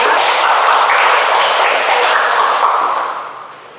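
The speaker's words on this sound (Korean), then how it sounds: "박수로 환영해 주시면 감사하겠습니다." Steady applause from an audience welcoming judges at a Korean national reading competition final, dense clapping at full strength for about three seconds before tapering off.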